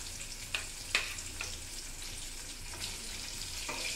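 Fish frying in hot oil, a soft steady sizzle with a few brief sharp crackles and pops, fairly faint and continuous.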